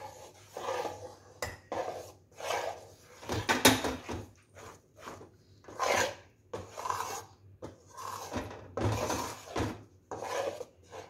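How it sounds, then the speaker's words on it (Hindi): Spoon scraping and rubbing through roasted gram flour (besan) as sugar syrup is slowly mixed in, for besan barfi; repeated rasping strokes in an irregular rhythm, close and moderately loud, with no talking. "बेसन में चाशनी मिला लेते हैं। इसको धीरे धीरे अच्छी तरह से मिलाइए।"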